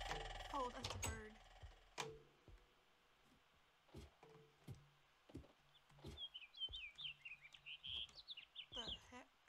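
Birds chirping in the video game Minecraft during a modded survival session: faint, thin tweets cluster toward the end, scattered among louder clicks and thumps of in-game digging, fairly quiet overall.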